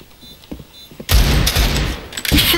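Video game gunfire: scattered soft thumps lead into a sudden loud, sustained fusillade of close, rapid shots that pauses briefly and then resumes.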